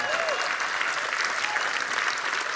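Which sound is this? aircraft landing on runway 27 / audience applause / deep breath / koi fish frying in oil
audience applause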